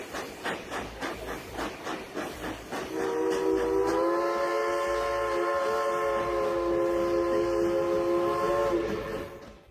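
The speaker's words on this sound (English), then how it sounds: "The train has to crawl as slowly as possible over this curved high bridge" A train crawls slowly across the curved, 100-foot-tall Devil's Gate High Bridge: steady rhythmic chuffing gives way to a loud, sustained multi-tone whistle held for several seconds.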